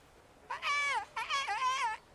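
In Kingdom Come: Deliverance, a character imitates birdsong with his voice, making two drawn-out, warbling, wavering calls that sound more like a cat's meow, close and clear with a brief pause between them.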